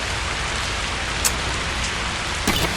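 Heavy rain pours steadily in a driving game, a dense even hiss filling the scene with a couple of brief sharper splashes, no voices.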